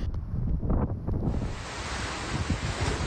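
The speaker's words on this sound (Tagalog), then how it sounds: "katakot-takot na alon din ang humampas sa mga bahay sa paligid ng dagat" Strong Typhoon Uwan winds buffet the microphone with heavy rumbling gusts while crashing seawater waves surge in a dense, continuous roar along a seawall by the sea.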